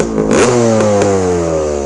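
A 1980 Honda CR250R Elsinore two-stroke motorcycle engine revs up sharply near the start and then holds a loud, steady, buzzy idle-to-midrange drone, close up and with no voices.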